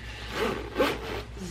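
A zipper is pulled in a few short rasping strokes, close by and fairly quiet, with a brief pause between pulls.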